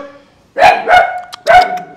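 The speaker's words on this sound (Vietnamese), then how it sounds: "Mấy con chó nhỏ mà đừng đâu cũng sủa hết" Small dogs bark three times in quick, loud, close yaps spread across two seconds, standing alone against a quiet background.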